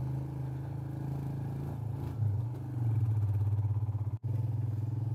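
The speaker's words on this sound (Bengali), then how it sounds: "গাড়ির সাউন্ড শুনেই বোঝা যাচ্ছে।" A motorbike engine labours in first gear up a steep mountain road near Bijanbari, Darjeeling, in a low, steady drone. The pitch shifts briefly midway, and the sound cuts out for a moment near the end.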